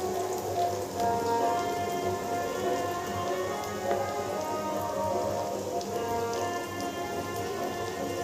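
Thick dibba rotti batter poured into hot oil gives a steady, dense sizzle and crackle that holds evenly throughout, with no talking.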